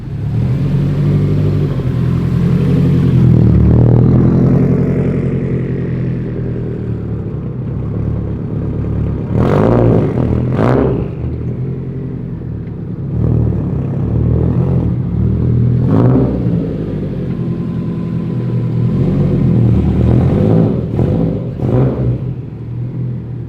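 A 2004 Subaru WRX STI accelerating through city streets, its engine building into a loud, close rumbling growl, easing off, then revving hard again in several surges with gear-change dips between pulls.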